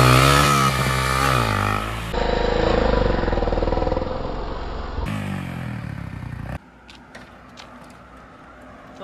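A Hero Ignitor motorcycle engine runs loud and close, its rough, buzzing note shifting through a few abrupt changes in pitch and intensity before dropping to a quieter, rattling idle near the end.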